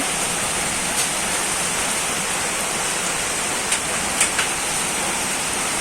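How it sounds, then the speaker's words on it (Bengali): Heavy rain with light hail roars in a dense, steady wash during a storm, loud and close, with a few faint sharp ticks standing out briefly near the end; nobody speaks. "বৃষ্টির সাথে গুড়ি গুড়ি শিল পড়তেছে"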